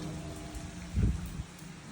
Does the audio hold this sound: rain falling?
yes